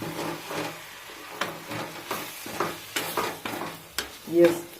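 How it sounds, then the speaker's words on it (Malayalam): Spoon scrapes and stirs spice paste with chili and coriander powder in a pan for Kerala-style sambar, a series of irregular scraping strokes over a soft sizzle, close and fairly quiet. "ഈ അരപ്പൊന്ന് ഒന്ന് നന്നായിട്ട് പച്ച മണം മാറാൻ ഇതിനകത്തോട്ടിട്ട് ഇളക്കി കൊടുക്കണം"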